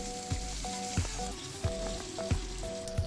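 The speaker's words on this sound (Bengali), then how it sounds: "আলুটা ভাজা হলে দিয়ে দেবো ঝিঙে। 2 মিনিট ভাজবো আবার।" Potato and ridge gourd sizzle steadily in hot oil in a pan, with sharp stirring knocks landing at a regular pace about every two-thirds of a second, close and fairly quiet.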